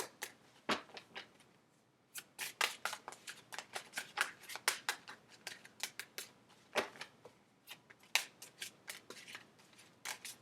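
Tarot cards are shuffled close up in quick riffling bursts, crisp papery flicks repeating with brief pauses between rounds.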